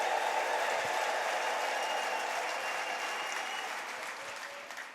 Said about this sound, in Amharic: ለዚህ ጌታ እስቲ እልልታ ጭብጨባ ምስጋና ታመጣለህ